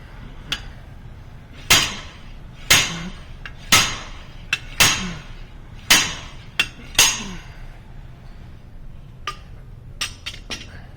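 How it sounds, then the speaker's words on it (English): A slide hammer knocking out a front wheel bearing on a VW, sharp metallic clanks struck one at a time at irregular intervals, about a dozen loud hits ringing close by. "You get yourself a big ass slide hammer, and this thing will pop out like butter."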